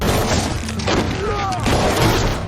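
Pistol shots ring out in a violent yakuza film scene, loud booming reports layered over a dense, noisy soundtrack. A few short tonal sounds appear midway.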